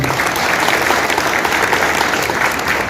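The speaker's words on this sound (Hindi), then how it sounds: "उस मालिक के लिए एक बार जबरदस्त ताली चाहिए" Audience at a seminar on IMC business income bursting into strong applause, a dense, loud wash of many hands clapping together without any break.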